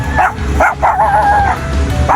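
Small dogs yip and bark in quick bursts close by, several sharp high barks with brief whimpers over a low background rumble, no talk.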